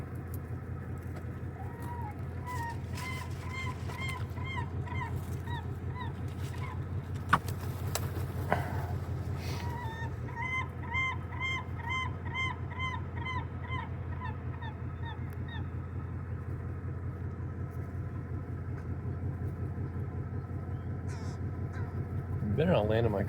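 Crows caw repeatedly in rhythmic bursts while seagulls call nearby, fairly close, over a steady low rumble of a car idling.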